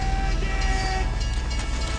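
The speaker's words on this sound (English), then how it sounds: "Train!" A train rumbles past in the online shooter Team Fortress 2, with a low, continuous rolling drone and a held tonal hum that may be a horn. No voices are heard.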